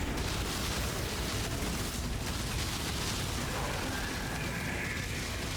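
Dense, overlapping explosions burst nonstop from a Path of Exile build, a loud rumbling wash of booms with no gaps between them.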